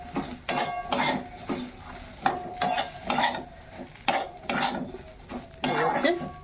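Food being mixed in a dish with crispy fried neem leaves added: repeated clinks and scrapes of a utensil against the dish in an irregular rhythm, close and with no talk.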